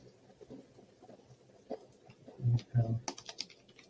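Keys tapped on a computer keyboard while tags are entered into project tracking software, a few soft scattered clicks giving way to a louder cluster of strokes near the end, with faint low voice murmur underneath.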